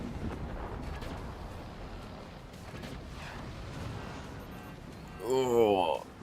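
Secondary explosions and weapon fire rumble through a battle in the physics-based fort-building strategy game Forts, a steady low roar of blasts rising to a louder, brighter burst near the end.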